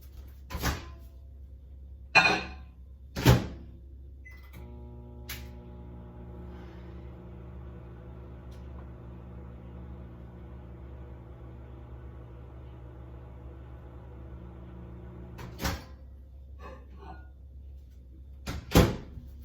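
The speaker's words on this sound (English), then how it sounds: "I'm just gonna go ahead and put it in the microwave for about 10 more seconds" Several sharp clunks of a microwave door and buttons, then a steady low hum of the microwave running for about ten seconds to remelt soap before it stops and the door opens.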